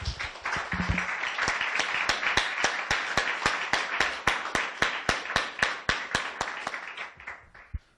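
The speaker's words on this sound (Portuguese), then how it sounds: "Vamos dar uma salva de palmas bem bonita para o nosso Deus?" A church congregation claps in a steady rhythmic beat at a Portuguese-language service, sharp evenly spaced claps continuing for several seconds and tapering at the end.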